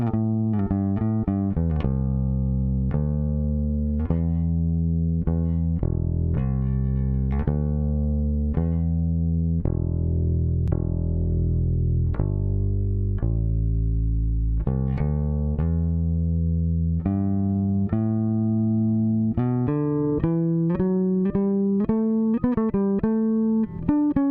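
Bass guitar played through a Universal Audio Teletronix LA-2A compressor pedal, a steady run of plucked notes with sustained low tones, close and even in level, alone without talk.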